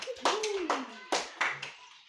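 A few separate claps from a classroom group praising Group 2's discussion presentation, heard as sharp bursts among children's voices and talk.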